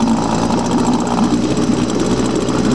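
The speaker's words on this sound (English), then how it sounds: "It's a sweet running little engine here." Small Suzuki 5 hp two-stroke outboard motor idling steadily, a continuous close buzzing drone with an even, fast-pulsing rhythm and no break.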